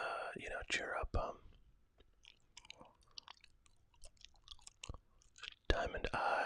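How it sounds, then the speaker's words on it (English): Gum is chewed close to the microphone during a relaxed ASMR chat, with soft, irregular wet clicks and smacks and quiet whispered speech in between. "especially those gum chewing sounds"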